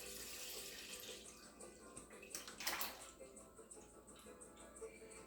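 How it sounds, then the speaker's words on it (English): Milk poured into a pot for homemade queso fresco, a steady liquid stream like a filling tap at moderate distance, swelling briefly in the middle, with no talking. "what we're gonna do is add our milk to our pot"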